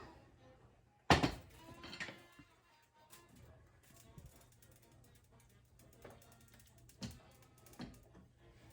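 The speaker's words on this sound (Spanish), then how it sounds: "Ahora vuelvo a encender la estufa." A kitchen stove is switched back on for a pumpkin soup, giving a sharp mechanical click and ratchet-like snap near the start, then softer clicks and faint clatter over a low steady hum.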